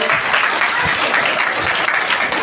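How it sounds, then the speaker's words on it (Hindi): A loud, sustained burst of applause fills a hall at a school's first annual prize-giving ceremony, many hands clapping densely and evenly throughout. "जोरदार तालियां बजाएं"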